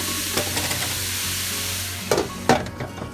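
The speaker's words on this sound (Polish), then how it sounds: "No i to troszkę podusimy dłużej. Podsmażymy, podusimy." A mushroom and beef pierogi filling fries in a pan, a close, steady sizzle broken by a few scraping stirs near the end, with no voices.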